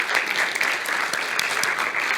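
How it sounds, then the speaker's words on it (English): Audience applause for a team of high school students, a dense steady roar of many hands clapping close by, continuous and loud throughout without talk. "let's give Gabby and the team a round of applause"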